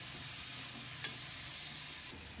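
Tomatoes frying in a pan for a Chhattisgarhi bada kadhi, a soft continuous sizzle with a faint stir or tap midway, steady and close.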